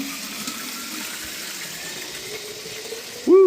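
Tap water runs steadily as a bottle is refilled, a broad wash of noise that builds into a louder, fuller gush at the very end.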